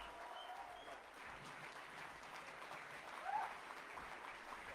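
An audience at a direct-selling event in India applauds in a faint, distant, continuous patter of many hands, low in level throughout, with a brief swell near the end.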